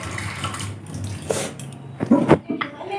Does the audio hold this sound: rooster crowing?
no